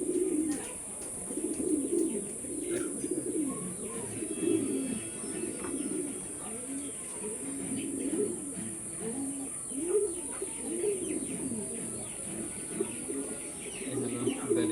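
Racing pigeons coo steadily in a loft, their soft, throaty pulses overlapping in a continuous close chorus, with occasional faint chirps and no talk.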